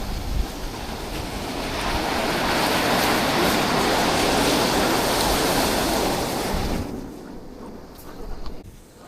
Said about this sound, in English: These waves are pumping right up in here now.